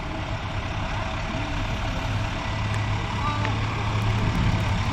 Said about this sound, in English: Big tow truck.